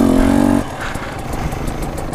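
An enduro motorcycle engine drones loudly and steadily, then drops to a lower, rougher rumble as the bike rolls down a slope off-road, with faint crackling terrain noise.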